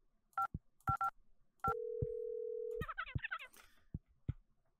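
DTMF keypad tones from the phone-dialing video game Hold the Phone: a few quick dual-tone beeps, a long steady tone, then a chirpy warbling signal and more clicks and beeps, loud and clear with no talk.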